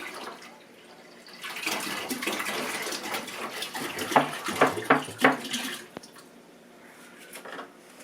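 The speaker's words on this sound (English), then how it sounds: "I've got my 4 gallons of water in there inside the honey mixture" Water pours and splashes into a honey mixture for sweet mead, a steady rushing flow with sloshing bursts and a few clunks near the middle, fading to quieter trickles at the end.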